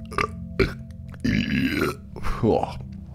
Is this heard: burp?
yes